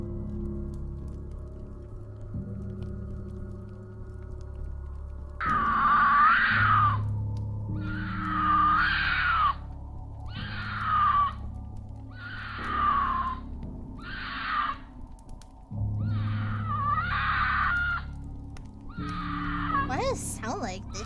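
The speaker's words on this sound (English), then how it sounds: "when a mountain lion screams, it sounds exactly like a woman being brutally murdered" A mountain lion's shrill, wavering screams, a series of about eight drawn-out cries in quick succession over steady low background noise, sounding eerily like a human shriek.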